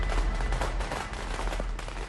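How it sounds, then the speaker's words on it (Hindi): Firecrackers bursting during Diwali night in Delhi, a dense, continuous crackle of rapid pops and bangs, loud and close with no talk. "हर तरफ लोग पटाखे छोड़ते दिखे, कहीं कोई रोक टोक नहीं थी।"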